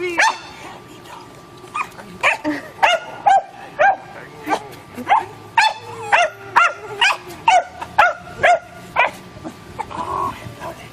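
Excited dachshund puppies bark and yip in a quick, regular string of sharp, high calls, close and loud, with a few whimpers mixed in.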